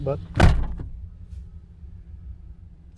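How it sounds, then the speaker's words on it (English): A 1993 Lincoln Town Car door thumps shut once, a solid single slam after a brief spoken word, followed by quiet cabin hum. "Let me just try to close this door so see how quiet it is inside."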